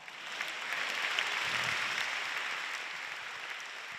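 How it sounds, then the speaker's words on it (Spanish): An audience at a televised awards gala breaks into applause, a broad wash of clapping that swells and holds for a few seconds before gradually tapering off, heard at moderate distance. "Fuerte aplauso para este chico tan guapo."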